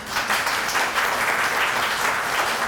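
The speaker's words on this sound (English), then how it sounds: "Let's give him a round of applause." Audience applause at a ribbon cutting for the McMurray Experience, a steady wash of many hands clapping together that holds at an even level for the whole stretch with no voices on top.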